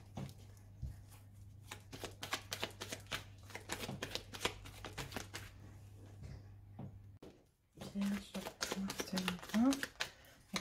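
Tarot and oracle cards are shuffled in a quick, continuous riffle of crisp flicks, then cut and handled with softer taps, close and clear, while someone talks in French.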